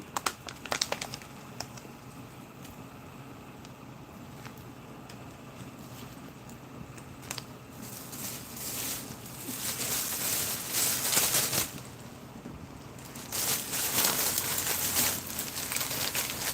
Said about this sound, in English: Just using the knife to pretty much finish off that little packet.